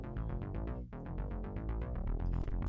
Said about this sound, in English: I put an harp on it, playing 16th notes.